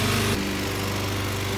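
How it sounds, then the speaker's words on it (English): A lawn mower cutting grass runs close by as a loud, steady engine drone, its pitch dropping slightly a moment after it starts. "Normally mowing the lawn is my job"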